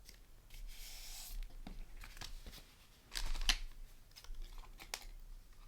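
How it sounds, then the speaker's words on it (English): Anti-stick scissors cut through textured cardstock in a Christmas card build, giving a few crisp snipping bursts and paper rustles at close range, with no talking. "I'm using my anti-stick scissors."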